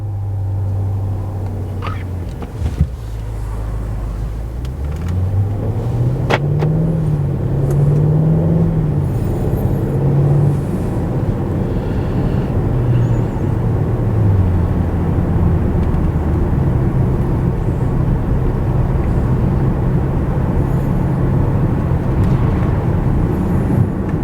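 A BMW 750 starts with a short crank and catches, then settles into a steady idle and a low, continuous rumble as it drives off, close and loud.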